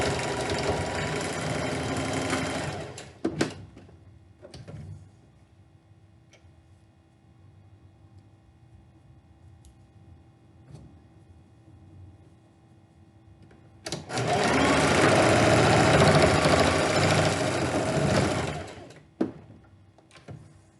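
A sewing machine stitches the edges of a fabric mask in two loud bursts, a short run at the start and a longer steady run near the end, with a quiet pause and faint ticks between.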